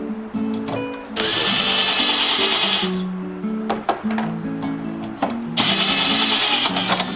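A power drill whines in two loud bursts, close up, drilling through a patio umbrella rib, with clicks and scraping handling noises between them.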